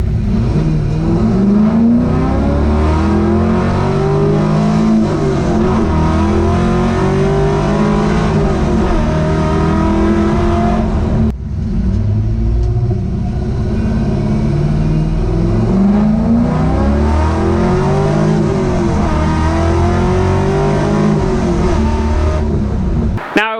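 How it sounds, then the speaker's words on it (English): A car with a 180 degree header exhaust, during its break-in period, revs up loudly in two rising pulls with a short gap between them, the raspy engine note close and continuous. "I put about 50 miles on the car and then the car started making these noises."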